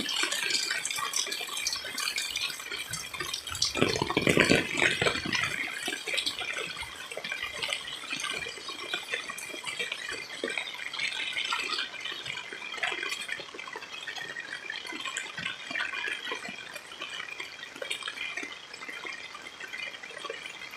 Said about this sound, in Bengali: এই তার উপর আবার বৃষ্টি পড়তেছে